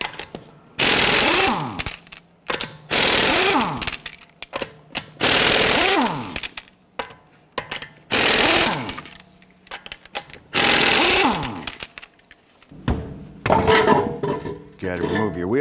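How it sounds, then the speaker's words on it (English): A 22mm socket on a powered tool loosens and removes the lug nuts from a front wheel of a 2009-2015 Honda Pilot. Close, loud rattling bursts of a second or two repeat about six times, with short pauses between them. "Using our 22mm socket, let's loosen and remove our lug nuts."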